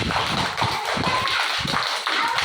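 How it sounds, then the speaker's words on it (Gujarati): A group of children claps together after a story: dense, loud, steady applause that carries on without a break for a couple of seconds. "તો તાળી તો પાડો હોય"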